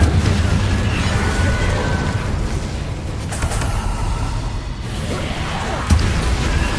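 Incendio fire spell blasts in Hogwarts Legacy on PS5, booming whooshes of flame that roll continuously over a rumbling game soundtrack, with a sharper burst near the end.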